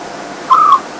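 A scops owl gives a single short, clear whistled call in the night near a jackalberry tree, close and distinct against a quiet background hiss.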